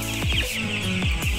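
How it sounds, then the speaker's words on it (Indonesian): Broiler chickens about two weeks old clucking in a coop with rice-husk bedding and bamboo flooring, a loud, close, continuous chorus of overlapping clucks with steady background noise. "Bisa dilihat keadaan ayam broilernya ya, agak sedikit takut-takut jalan di bambu."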